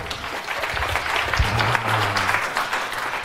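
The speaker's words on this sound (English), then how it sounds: "Applause." An audience at a web development talk claps steadily for a few seconds, a dense, even burst of applause with a brief low tone sounding beneath it.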